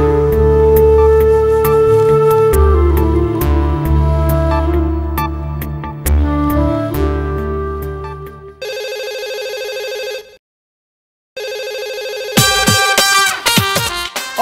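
A telephone rings with a bright repeating electronic ringtone, loud and close, that drops out briefly and then resumes, with no talking.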